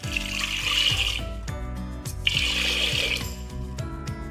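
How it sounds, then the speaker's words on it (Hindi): Water being poured from a glass into a pressure cooker full of potatoes, splashing and trickling in two close, steady pours with a short break between them. "अब इसके अंदर मैं डालूंगी 2 गिलास पानी"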